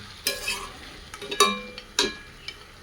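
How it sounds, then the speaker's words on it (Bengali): Goat meat cooked with chui jhal being stir-fried in a pan, with a soft sizzle under repeated scraping strokes of a spatula arriving in irregular bursts, close and fairly quiet. "এগুলো এবার আমি মাংসের সাথে খুব ভালোভাবে আমি কষিয়ে নেব"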